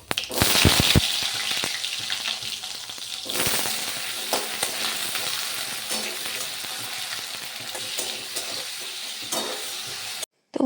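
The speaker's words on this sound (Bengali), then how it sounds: "চলো নিরামিষ বাঁধাকপি তরকারিটা চাপিয়ে দিই" Vegetarian cabbage curry sizzles and fries in a pan, with loud crackling spatter and scraping stirs up close, the sizzle steady for several seconds before cutting off.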